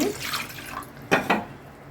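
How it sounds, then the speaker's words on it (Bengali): Water poured from above into a cooking pan in a home kitchen while making watermelon pudding: a splashy pour in the first half, then two short, louder splashes near the end, heard close up with no talking. "পানি দিয়ে দিচ্ছি"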